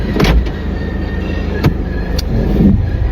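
An automatic car starting up close by, a brief whir and a couple of clicks rising into an engine idle that runs alone to the end.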